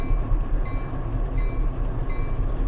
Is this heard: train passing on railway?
yes